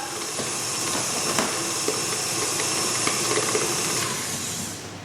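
An electric hand mixer creaming Oreo cupcake batter in a bowl, a steady close whirring hiss with faint scraping clicks against the sides throughout.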